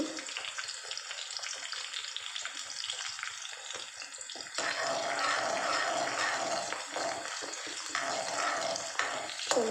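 Chopped ginger frying in a pan for sweet corn fried rice, a steady crackling sizzle that grows louder and denser midway through, with faint stirring scrapes and no voices.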